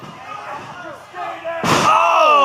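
At a wrestling event, a wrestler thrown out of the ring lands on the floor with a single heavy thud, surrounded by a loud crowd roar and talking.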